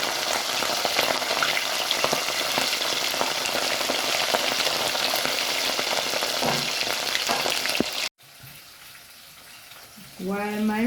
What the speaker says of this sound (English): we're gonna just put in our fish and have that nicely fried